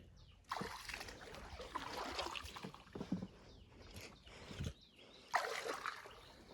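Paddle strokes from someone rowing a small wooden boat through shallow water while setting crab traps in the Konkan, heard as soft, uneven splashes and trickles against a quiet background.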